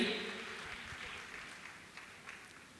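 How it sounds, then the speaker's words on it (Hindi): Audience applause at a Jain religious discourse in Indore: a steady wash of many hands clapping, spread evenly through a large hall and slowly fading. "जोरदार ताली बजाकर इनका सम्मान करें।"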